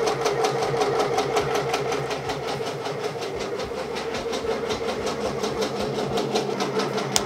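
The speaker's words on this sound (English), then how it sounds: "All right, and we're gonna press start. I have mine on auto and manual mode at this moment to do this." An embroidery machine stitches a design onto a sweatshirt with a fast, even run of mechanical clicks and a steady motor hum, loud and close throughout.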